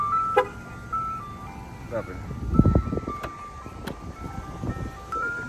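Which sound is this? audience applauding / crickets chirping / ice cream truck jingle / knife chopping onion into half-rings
ice cream truck jingle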